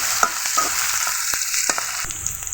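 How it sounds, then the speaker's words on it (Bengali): Chopped onion, garlic and green chili fry in a pan for water spinach, stirred with a spatula. The sizzle is steady and close, broken by several sharp scraping strokes of the spatula. "পেঁয়াজ কুচি খুন্নির সাহায্যে এভাবে নেড়ে চেড়ে পেঁয়াজ কুচি রসুন কুচি ও কাঁচা মরিচকে ভেজে নিতে হবে"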